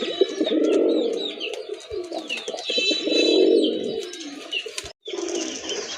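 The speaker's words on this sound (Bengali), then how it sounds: "দুইটা কবুতরে দেখার মতো কোয়ালিটিফুল কবুতর" Quality native Bangladeshi deshi pigeons for sale, including a Rajgolla knot pigeon, coo in deep rolling phrases close by, with faint chirps from other birds behind them.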